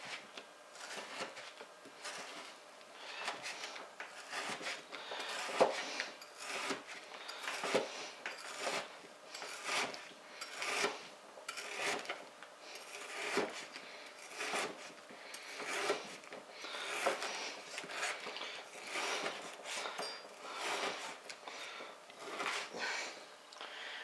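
Knife cutting grocery-store streaky bacon into thin strips on a board, a faint rhythmic series of soft scraping strokes repeating roughly every second, close and quiet with no talk.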